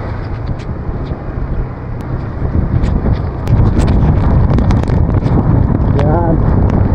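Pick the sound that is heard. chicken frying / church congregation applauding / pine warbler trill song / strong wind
strong wind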